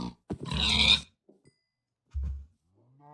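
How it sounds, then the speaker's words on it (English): Pigs in the Minecraft video game give a couple of short, loud grunts close by, separated by a quiet gap, with a faint tonal tail at the end. "I'll kill the pigs instead because I just need some food for right now."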